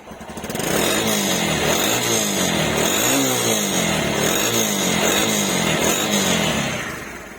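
A motorcycle engine idles steadily up close, a loud continuous rumble with a regular pulsing beat that holds for several seconds before easing slightly.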